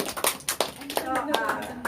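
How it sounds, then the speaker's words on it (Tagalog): A church congregation claps during a service: quick, close, rhythmic handclaps that mix with excited voices talking and calling out. "Pwede pumalakpak!"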